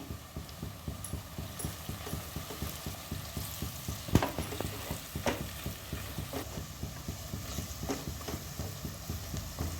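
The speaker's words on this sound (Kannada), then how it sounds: "ಈರುಳ್ಳಿ ಚೆನ್ನಾಗಿ ಫ್ರೈ ಆಗಬೇಕು." Onions sizzle in a pan under a steady, rhythmic scrape of stirring, repeating evenly throughout with an occasional sharper clack.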